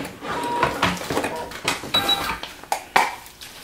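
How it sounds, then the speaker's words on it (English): A Singer Futura Quintet embroidery machine finishes stitching an applique design and snips the thread, giving a busy mechanical whirr and clatter followed by a few sharp clicks near the end. "And it's done, and it just cut it off. If you recall, it snips it off for you."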